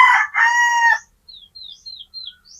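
A rooster crows loudly and close by in one long cock-a-doodle-doo, followed by a series of faint, high chirping calls.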